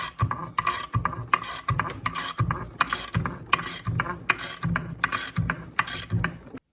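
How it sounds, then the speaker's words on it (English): A crank puller is tightened to draw the crankshaft of a 1998 Suzuki RM250 through its crankcase, giving a steady train of loud, close ratcheting clicks in an even rhythm, about one or two per second, with no talk. "once you got your crank puller installed, it's just time to start tightening it down and start pulling the crank through the crankcase"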